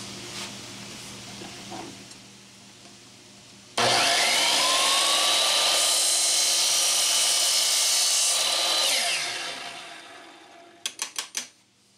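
A carbide-tipped saw blade cuts through aluminum bins with a loud, sustained high whine that starts abruptly after a quieter hum, holds for about five seconds, winds down, then is followed by a few sharp clatters.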